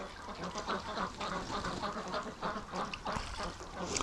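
Muscovy ducks in a breeding flock near a barn give soft, repeated quacking calls that come in irregular bursts over steady outdoor background noise.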